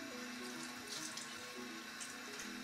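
Tap water runs steadily from a faucet into a sink while a makeup brush is wetted, a constant close-up hiss and splash with no talking.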